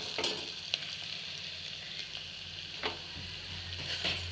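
Green chillies, peanuts and cashews fry in a pan with a constant hissing sizzle, punctuated by a few quick scrapes of a stirring spoon.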